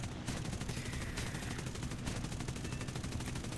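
Enemy gunners' machine gun fire in War Thunder, aimed at a P-51H-5-NA fighter, a steady rapid rattle of shots held at moderate distance throughout.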